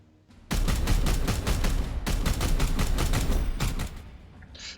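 Sustained suppressing gunfire in the turn-based strategy game Warhammer 40,000: Chaos Gate - Daemonhunters, a loud, dense rapid-fire burst of shots that starts abruptly and rattles on for about three seconds before cutting off.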